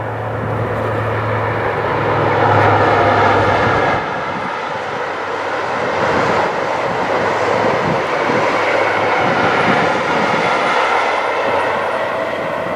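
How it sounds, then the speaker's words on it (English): A King's Cross to Aberdeen passenger train approaches near Alnmouth with a broad, rolling rumble that builds and holds, steady and moderately loud, with no voices. "This should be King's Cross Aberdeen now. We can hear it approaching."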